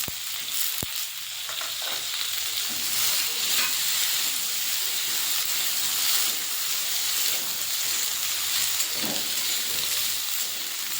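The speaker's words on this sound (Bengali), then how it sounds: "ভেন্ডিগুলো সুন্দরভাবে হালকা আঁচে ভাজা হয়ে যায়" Okra frying in a pan over a low gas flame gives a steady, close sizzle with soft crackles throughout, plus a single sharp knock near the start and occasional stirring scrapes.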